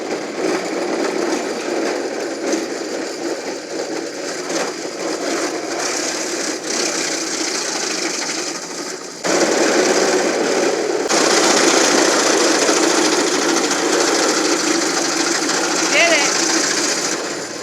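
A chainsaw and wood chipper engine drones steadily and loudly throughout, its pitch and load shifting partway through as the machine works harder.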